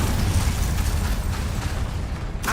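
A fire spell cast in the video game Hogwarts Legacy: a loud, sustained roaring whoosh of flame with a deep rumbling low end, lasting a couple of seconds before ending in a brief bright crackle.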